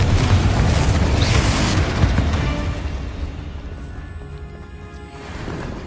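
Spell blasts from Hogwarts Legacy, fire and blasting charms, land as a heavy rumbling explosion up front that rolls on and gradually fades away into quieter debris noise.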